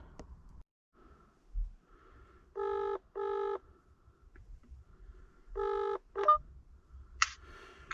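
A telephone keypad dialing a call for a Ford Focus instrument cluster diagnosis, with short paired tone bursts, then a brief ring signal and soft breathing or sniffing near the phone in an otherwise quiet room.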